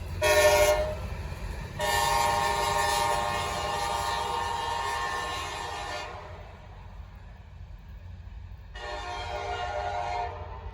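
A Norfolk Southern freight train sounds its K5LA five-chime horn at Gaffney, South Carolina. There is a short blast, then a long sustained blast, a pause, and another blast. A low rumble of passing rail cars runs underneath throughout.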